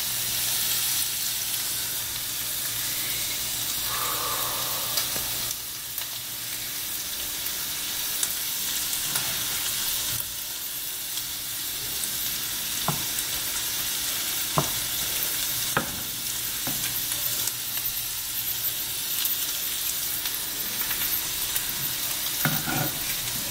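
Sauce sizzles steadily in a hot frying pan, a constant loud hiss with occasional stirring clicks and scrapes and no talk.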